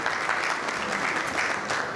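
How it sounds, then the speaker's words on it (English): Sustained applause from the crowd at a Labour party fundraising dinner in Ealing, steady dense clapping that holds at an even level throughout, with no talk over it. "they owe a big hand of applause for our Ealing councillors"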